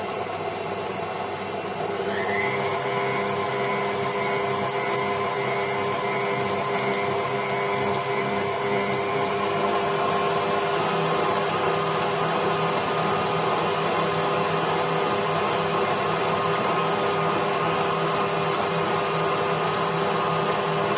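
A stand mixer whirs steadily at low speed while beating sugar into buttercream, a continuous motor hum with a slight step up in level after a couple of seconds, running alone without talk.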